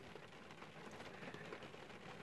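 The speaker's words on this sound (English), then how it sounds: "And the rain that I was looking for is here now." Torrential rain pours down outside a car as a steady, dense hiss of drumming drops, loud and unbroken throughout, with no voices.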